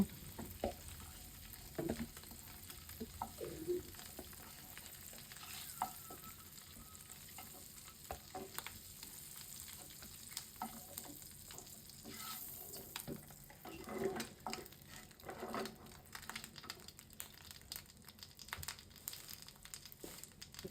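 A duck egg fries and is stirred in a pan, with steady sizzling and crackle running throughout and occasional stirring scrapes, no talk.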